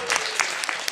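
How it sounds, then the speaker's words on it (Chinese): An audience at a retreat gathering breaks into a short burst of applause, brisk and close, with clapping over a brief murmur of voices. "好，掌声鼓励。"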